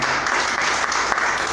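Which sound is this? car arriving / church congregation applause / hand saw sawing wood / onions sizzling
church congregation applause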